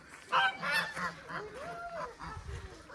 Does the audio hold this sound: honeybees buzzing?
no